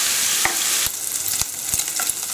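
Bacon frying to render its fat in a pan alongside young cabbage being stirred: steady close sizzle with several sharp scrapes and knocks of a utensil against the pan, no talking.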